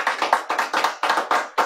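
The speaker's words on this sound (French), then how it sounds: "J'entends des applaudissements." Hand clapping as applause at the close of an evening couples' game show, heard as a steady, rhythmic run of sharp claps, close and fairly loud, with no voices.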